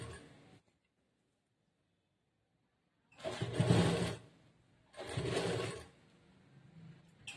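Sewing machine stitching a blouse sleeve, running in two steady bursts of a few seconds each, separated by quiet pauses, fairly close and loud.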